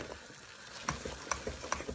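Caramel being stirred in a hot saucepan on the stove, with soft scraping strokes and a faint sizzle and bubbling, close by and fairly quiet.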